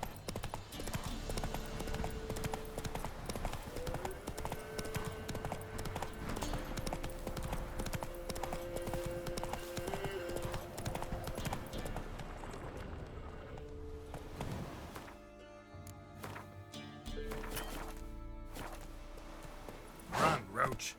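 In The Witcher 3, the horse Roach gallops with rapid, rhythmic clip-clop hoofbeats over a steady game soundscape. The hooves thin out and slow near the end, and a voice is heard speaking over them.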